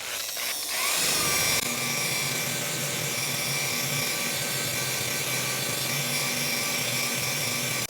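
A car paint buffer is set to speed 3, around 1,500 RPM. After a brief clatter it spins up into a loud, steady mechanical whine and hum that holds evenly for the rest of the clip, close by and alone.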